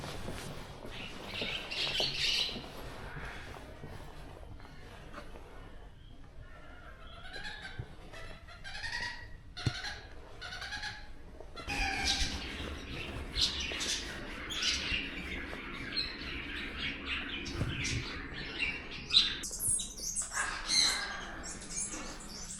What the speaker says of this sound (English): I think they were all kind of like macaw or parrots or similar, but they were making a big racket